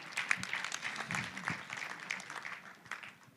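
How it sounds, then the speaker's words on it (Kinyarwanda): A wedding audience applauds to thank the parents, a faint, distant patter of clapping that holds steady throughout. "reka dukoma amashyi dushimira ababyeyi"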